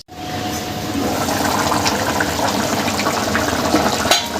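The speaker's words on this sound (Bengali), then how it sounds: "এই যে ঝোলটা ফুটে গেছে, পেঁপেগুলো সেদ্ধ চট করে।" Bengali rohu fish curry broth with papaya bubbles at a rolling boil in a pot, a continuous close churning, gurgling wash that holds steady throughout with no voices.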